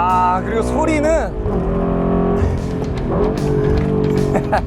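A 421-horsepower AMG four-cylinder car engine revs hard and growls, pitch climbing then settling into a throaty drone, loud and close with a voice talking over it.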